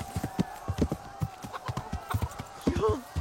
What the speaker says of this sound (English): All right, we got the horse riding.